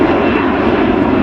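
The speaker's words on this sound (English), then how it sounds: "There's another airplane." A fixed-wing airplane passes overhead near a Los Angeles construction site, its engine a loud, steady broadband roar throughout, with no talk.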